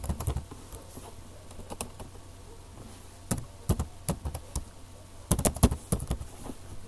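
Typing on a computer keyboard in clusters of sharp close key taps separated by short pauses, fairly loud, with no speech.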